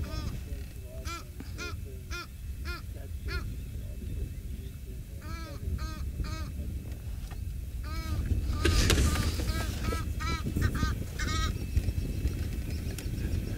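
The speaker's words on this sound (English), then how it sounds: "the Egyptian goose are so very much lovely. Listen to them making a call" Egyptian geese calling on safari, a series of loud, repeated honking calls in bursts, with a person talking over part of it.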